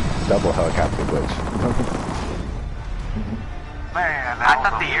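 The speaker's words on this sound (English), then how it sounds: "We called in two helicopters" Two helicopters in Call of Duty Warzone rumble as a low, continuous rotor roar with a thump of distant gunfire or an explosion, underneath players talking.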